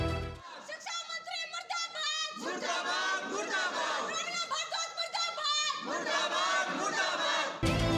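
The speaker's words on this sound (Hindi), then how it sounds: "ये मुर्दाबाद के नारे, ये यूं ही नहीं है।" A protesting crowd of parents shouts slogans in loud rhythmic bursts, many voices chanting together close by, pausing briefly between repeated calls.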